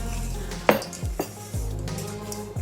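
A spatula scrapes and knocks around a mixing bowl as cake batter of flour and salt is stirred for a German pear kuchen. There are several close clatters and pauses, and no one speaks.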